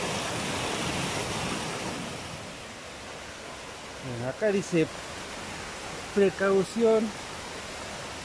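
The Curi waterfall roars as a steady, loud wash of broadband water noise throughout, with a voice speaking briefly over it in the second half.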